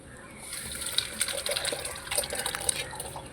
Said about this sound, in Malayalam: നമ്മൾ നേരത്തെ വെച്ചിരുന്ന സാമ്പാറിൻ്റെ കൂട്ട് നമുക്ക് അതിലോട്ട് ഒഴിക്കണം